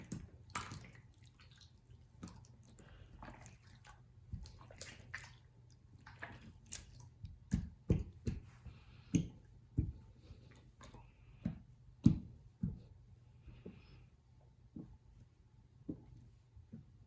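Slime of a strange, wet texture is squeezed and pulled close up, making a string of soft, irregular wet squishes and clicky pops with quiet gaps between them.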